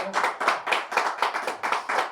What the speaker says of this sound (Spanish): Dan un aplauso a la palabra de Dios